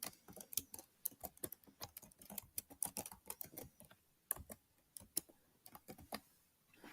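Quick, uneven keystrokes on a computer keyboard fill in an online trademark registration form, with soft, close clicks in bursts and short pauses and no voices.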